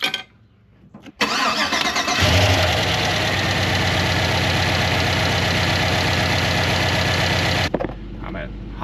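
A rebuilt GM Gen IV 5.3 Vortec V8 cranks briefly after a quiet moment and catches on its first start. It then settles into a loud, steady idle that runs until a sharp cut near the end.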